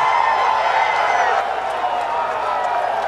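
Golf gallery roaring and cheering after Tiger Woods holes out from 83 yards, a sustained loud crowd swell that eases slightly but keeps rumbling with scattered whoops.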